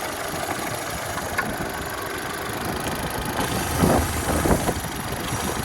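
A 2011 Opel Zafira engine idles steadily and evenly, a constant mid-pitched hum with no revving, heard close and alone without talk.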